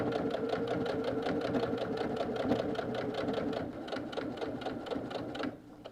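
A sewing machine runs steadily, stitching thick canvas fabric for a tote bag, with a fast even rhythm close up, then it slows briefly before stopping near the end.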